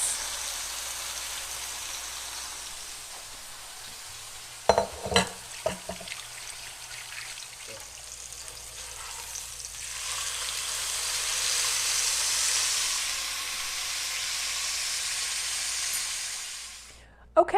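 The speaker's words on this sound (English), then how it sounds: "We're going to go ahead and put our marinated flank steak in there." Marinated flank steak drops into a preheated cast iron skillet with a few clunks, then a broad hiss of searing swells and holds steady for fajitas.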